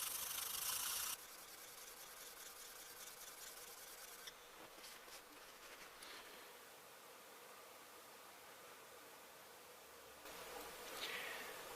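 The metal sole of a Stanley 220 block plane being lapped flat on an abrasive surface: a continuous soft, hissing scrub, steady and close, with a few brief louder strokes.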